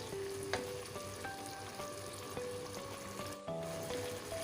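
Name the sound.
chicken wings biryani cooking with lemon juice in pot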